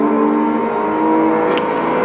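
Pickup truck engine in a racing video game, accelerating slowly with a steady, loud mid-range drone and rising tonal whine, continuous and alone without talk.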